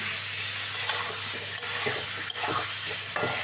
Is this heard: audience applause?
no